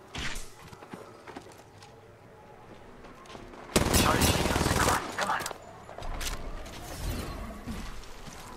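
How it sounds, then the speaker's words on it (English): Airstrike explosions in the Apex Legends shooter: a heavy, loud blast rumbles for about a second midway, followed by further booms and crackling, with scattered gunfire and footsteps and talk throughout. "That was the airstrike."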